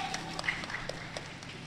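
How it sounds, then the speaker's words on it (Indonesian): An audience applauds at an Indonesian Muslim women's mental health gathering, producing a steady, diffuse wash of clapping at moderate, slightly distant level, with scattered sharper hand claps and faint voices mixed in. "Tepuk tangan dulu untuk kita semuanya"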